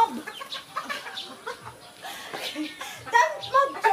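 White Leghorn chickens clucking close by in short, uneven bursts, with a few sharper squawks near the end, while people talk over them.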